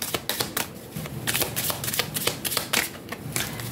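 A tarot deck is shuffled for a reading: quick, crisp riffles and flutters repeat in close succession, close-up and fairly quiet, with no speech.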